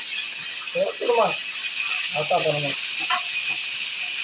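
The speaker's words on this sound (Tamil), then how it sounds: "கோல்டன் ப்ரௌன் கலர்ல வர வரைக்கும் நல்லா வந்து இதை ஃப்ரை பண்ணிக்கலாம்" Onions and tomato fry in oil in a pan, giving a steady, close hissing sizzle that runs the whole time beneath a person talking.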